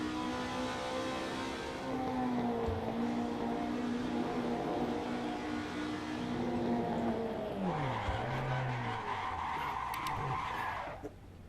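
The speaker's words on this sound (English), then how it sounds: "Brakes locked up bad." Race car tires skidding with locked brakes at Brands Hatch in the Assetto Corsa racing game, a sustained squeal over droning engine noise that dips and rises as the pitch shifts, loud and continuous with no talking.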